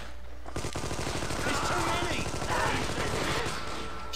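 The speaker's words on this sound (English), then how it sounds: "machine gun bullets" Rapid machine gun fire from an Xbox demo video game rattles in a steady, fast burst after a brief quiet start, continuing for several seconds at moderate level.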